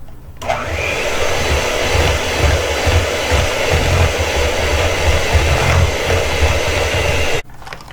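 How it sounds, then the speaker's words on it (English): Steady loud whirring of an electric hand mixer blending chocolate applesauce cake batter, running continuously for about seven seconds before cutting off abruptly, with no talking. "I'm going to mix these ingredients"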